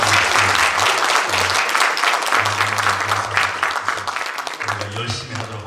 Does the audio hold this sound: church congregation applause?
yes